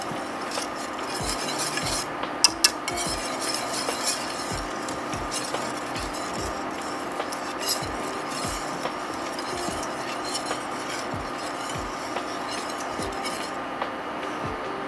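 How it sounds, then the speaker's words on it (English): A wire whisk stirs a thickening enchilada casserole sauce in a metal pan, making steady, evenly spaced metallic clinks and scrapes. The beat is quick and regular, close by, with no voices. "it's constantly being stirred with a wire whisk"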